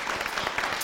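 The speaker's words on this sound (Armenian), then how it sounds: "Եկեք ծափարենք" An audience applauds a guest being introduced on stage, giving a full, even round of clapping from start to end with no voices rising above it.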